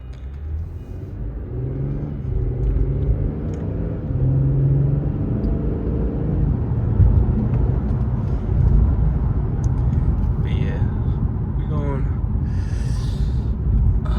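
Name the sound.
2018 Infiniti Q50 3.0t car driving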